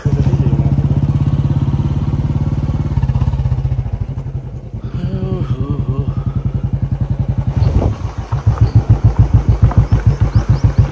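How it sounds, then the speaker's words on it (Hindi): A motorcycle rides along a road near Tansen, Nepal, its engine droning steadily and close throughout, with a jolt near the end as the revs begin pulsing in a rougher, throbbing rhythm. "एक और गाड़ी आ रही पीछे"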